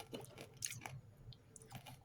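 Close, crisp crunching and chewing of a hard retro ration item, several uneven bites and crunches in quick succession with quiet pauses between them, no talk.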